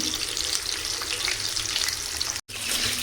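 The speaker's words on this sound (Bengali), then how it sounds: "আর এখানে হচ্ছে একটু সবজিটা ভেজে নিচ্ছি শাকের জন্য।" Vegetables fry in a pan for a greens dish, giving a steady, close, bright sizzle with soft stirring, briefly cut off near the end.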